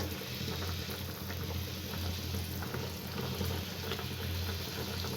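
A steady low bubbling and hiss of sugar syrup simmering in a pot, close and continuous, with no voices.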